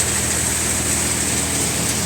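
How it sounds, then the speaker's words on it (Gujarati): A tractor engine holds a steady, loud, low drone at speed during morning threshing, with a constant broadband roar and no breaks. "આપણે ટ્રેક્ટર આરપીએમ બતાવીએ તમને"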